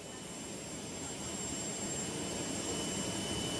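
Airplane that has flown in from Kiev, engines running steadily in a continuous broadband roar with a faint high whine, moderately distant and with no talk over it.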